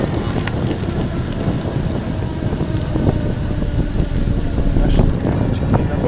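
Wind rising over Kairiai lake, a steady broadband rush and rumble with gusts building louder toward the end, heavy buffeting on the microphone.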